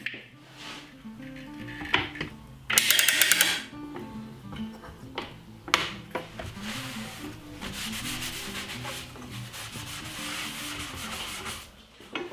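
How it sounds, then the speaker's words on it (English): Rockler Surefoot clamps are tightened on glued wooden boards, bringing close rubbing and scraping, a few sharp clacks and a bright rasping burst, with steady ratcheting friction throughout. "To clamp the boards up, I'm using the Surefoot clamps by Rockler."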